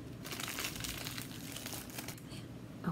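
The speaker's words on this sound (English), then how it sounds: "sorry about this crinkling and wrinkling" Crinkly plastic wrapping rustles and crackles continuously at close range as shot glasses are unwrapped, with no talk.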